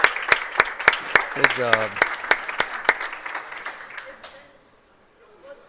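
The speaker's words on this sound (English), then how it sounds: "we're going to give him another round of applause" Clapping rings out at a youth bowling tour's boys elimination round. Sharp, evenly spaced claps come close by amid other applause, with people talking over them before the sound fades to quiet.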